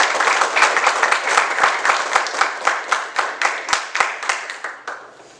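Audience applause for a sixth-semester journalism student at a panel on the UNAM student strike, steady clapping from a small crowd with distinct individual claps that thin out and fade toward the end.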